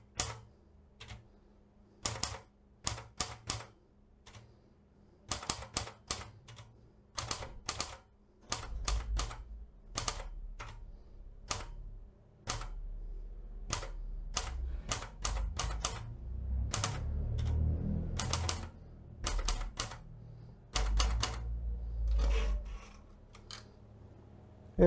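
A Seiko typewriter is used to type a line, giving a series of sharp key strikes at an irregular pace, some in quick bursts and some with gaps between, with a heavier carriage rumble partway through.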